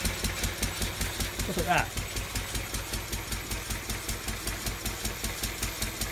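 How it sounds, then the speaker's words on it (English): A homemade flat belt cut from seat belt material runs on a slightly eccentric pulley, flapping in a steady rapid rhythm over a mechanical hum, close and fairly loud, with a brief spoken remark partway through. "with that pulley slightly eccentric, it's giving the belt a nice flap"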